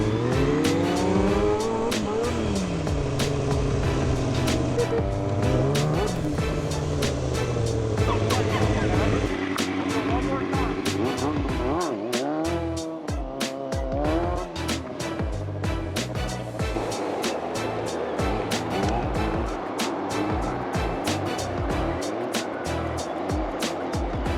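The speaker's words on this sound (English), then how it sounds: "And there was one last thing that I needed to do to make this a complete day. And that is do a wheelie with Brian 636." A Kawasaki 636 motorcycle wheelies through city streets, its engine revving and rising and falling in pitch loudly and continuously, with changing tones and road noise throughout.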